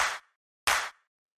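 Layered clap sample for a glitchy electronic drum kit, a cracky punch heard twice, two sharp bright bursts with short tails and a gap of about half a second.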